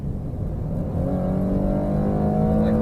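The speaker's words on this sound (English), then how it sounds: "it tends to shift when it's at red line" A Ford Flex engine revs hard toward red line, its drone climbing steadily in pitch and holding loud and close throughout.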